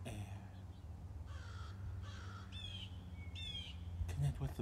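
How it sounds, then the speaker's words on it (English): A crow caws outdoors several times in a row, fairly close and moderately loud, with a few softer bird calls at the start and a low background hum throughout. "Connect with the birds."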